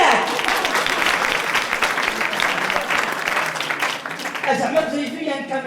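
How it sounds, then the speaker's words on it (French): Studio audience on a French-language TV show applauds on cue, a loud, dense burst of clapping that thins near the end as a voice starts speaking. "Alors quand je dis Haïdak, on applaudit."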